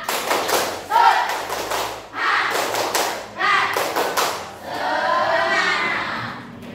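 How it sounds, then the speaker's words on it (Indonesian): A class of children doing a rhythmic spirit clap, with several bursts of clustered claps and thumps separated by short pauses, mixed with young voices chanting along nearby. "Tepuk semangat dulu."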